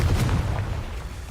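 A Confringo fire spell blasts in Hogwarts Legacy, a single deep, booming burst that hits loud and close, then trails off into a rumbling decay.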